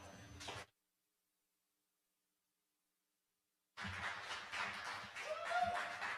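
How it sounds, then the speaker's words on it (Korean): A seminar audience gives a burst of applause to welcome the next presenter at a KOK PLAY success-story event. Broad clapping is heard briefly at first, then returns fuller and sustained after a pause of silence. "힘찬 박수로 맞아주시기 바랍니다"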